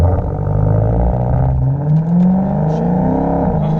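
A Dodge Demon street-legal drag car engine revs hard and accelerates with a loud, rising roar and whirring drivetrain, staying close and continuous.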